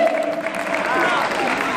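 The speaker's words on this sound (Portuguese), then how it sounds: "Palmas aí, galera. Faça barulho." An audience claps and makes noise at a 2019 head-to-head round-of-16 competition event. The loud, continuous crowd sound comes with a voice talking over it.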